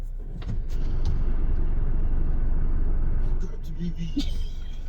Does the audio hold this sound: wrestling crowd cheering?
no